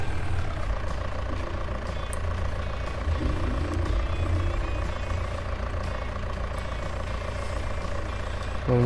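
A tractor in Farming Simulator 19 reverses in gear, its steady engine drone running throughout with a repeating reversing beep layered on top, loud and close with no talk.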